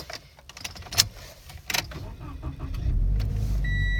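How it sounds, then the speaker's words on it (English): A 2017 Toyota 86 sports car starting up from inside the cabin, with a few clicks and handling noises before the engine catches, then a steady, loud idle rumble settling in over the final second. "I'm going to quickly start up this vehicle for you."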